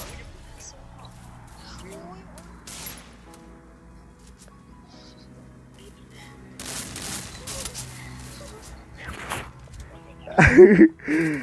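Gunfire in a shooting video game, a few scattered sharp shots over a quiet stretch, then a louder cluster of blasts near the end, with someone talking across much of it.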